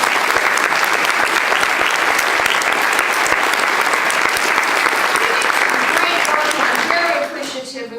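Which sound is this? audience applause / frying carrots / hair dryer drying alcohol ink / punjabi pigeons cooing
audience applause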